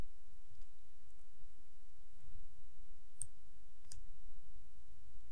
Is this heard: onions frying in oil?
no